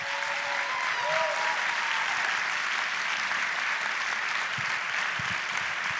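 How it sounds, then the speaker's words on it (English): An audience at Colorado Mesa University gives Stephon Ferguson another round of applause during a Q&A event, with a sustained, even wash of many hands clapping at a steady level throughout. "Can we give Stephon Ferguson another round of applause?"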